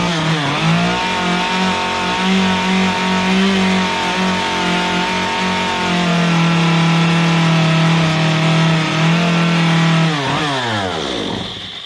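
A chainsaw carves a simple wooden bear head, loud and close, its engine revving up and holding high with pitch shifts as it cuts, then dropping back near the end, with no talk.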